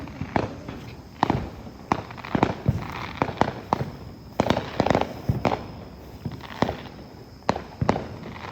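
Fourth of July fireworks go off some way off, a rapid irregular series of sharp cracks and booms, some clustered in quick bursts, standing clearly above a quiet background.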